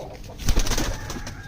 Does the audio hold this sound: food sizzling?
no